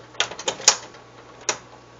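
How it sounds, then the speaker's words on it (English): A few sharp clicks from a stove burner igniter, close and fairly quiet, irregularly spaced over a couple of seconds. "I'm going to turn the heat on"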